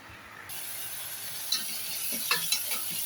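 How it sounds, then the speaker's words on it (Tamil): Onion, tomato and ginger-garlic paste fry in a little oil for a chicken curry with a continuous close sizzle. Stirring scrapes rise over it toward the end. "ஆயில் ஊற்றி ஆனியன், தக்காளி, இஞ்சி பூண்டு பேஸ்ட் போட்டிருக்கோம்."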